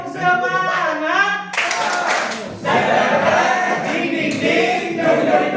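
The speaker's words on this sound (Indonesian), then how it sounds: "Tepuk semangat." A grade 9 class at SMP Puncak Darussalam does a rhythmic spirit clap. Loud group claps and shouts follow a brief sung or chanted intro, and the clapping is sharp, patterned and close.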